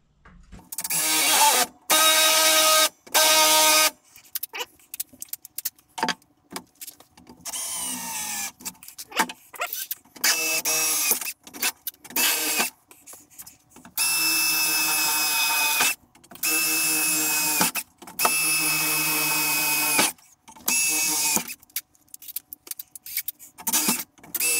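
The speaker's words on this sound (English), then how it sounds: "all I'm going to do here is some little holes just to get a screw through." A power drill bores small screw holes during an LED lighting bedroom renovation, with repeated loud, close whining bursts of a few seconds each, separated by clatter and handling noise.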